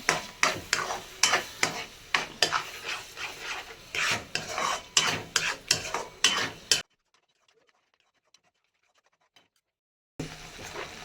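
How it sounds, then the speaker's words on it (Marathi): Tomato puree frying in a pan for Malvani dry chicken: close, rhythmic scraping and stirring strokes over a light sizzle, then a few seconds of near silence before the stirring resumes. "आता त्यात मी ही टॉमॅटोची प्युरी टाकणार आहे ती पण चांगली भाजून घ्यायची"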